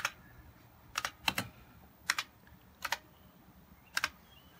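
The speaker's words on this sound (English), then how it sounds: "The name field is 20 columns wide. I'll type in some value." Key clicks on an IBM 3178 terminal keyboard come in short bursts of two or three, separated by pauses, in a quiet room with no talking.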